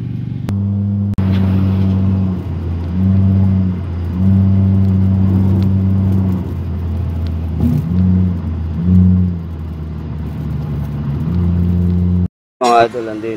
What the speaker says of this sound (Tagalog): Nasa highway na traffic pa.